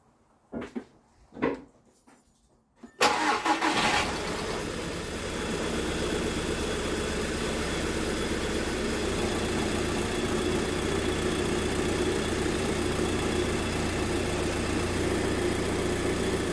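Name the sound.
Audi A4 B6/B7 2.0T engine starting and idling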